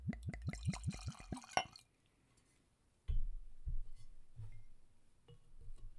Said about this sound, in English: I'm pouring into my baseball whiskey glass